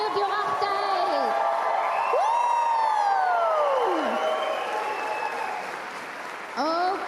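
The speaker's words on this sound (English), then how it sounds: "one more round of applause again for the Qaluyaarmiut Yurartait" Audience applause at a Native arts festival, a dense clatter of clapping from a crowd, with sweeping whoops and cheers rising over it and a voice speaking at times.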